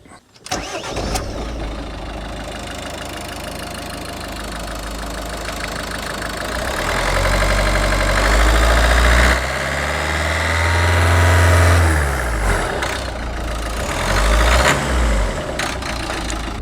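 Ford Focus TDCi diesel engine starting after injector replacement, cranking and catching, then idling with a knocking diesel clatter and revving up twice with deep surges before settling back, recorded close with no talk.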